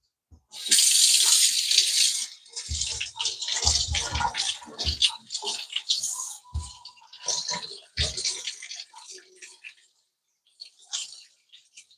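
Tap water running into a sink while produce is washed, splashing and gurgling in uneven bursts with dull thuds from handling, close by, trailing off into quiet near the end.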